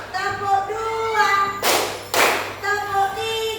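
A group claps hands in a rhythmic counting game, with two loud bursts of clapping standing out over a steady tonal background.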